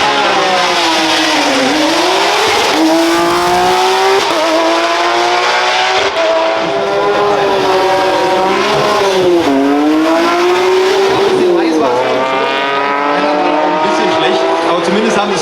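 An Audi S1 Pikes Peak race car powers off the line at the 2022 Osnabrück hill climb, its loud engine revving up and dropping back through repeated gear shifts for the whole stretch.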